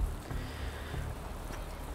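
Rain falling in a racing video game, a steady broadband patter and hiss that holds at an even level throughout, with no talk over it.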